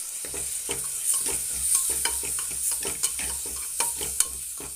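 Tomatoes are stirred into veg biryani in a pressure cooker, a spoon scraping and clacking in an uneven rhythm over a soft sizzle close by, with no talking.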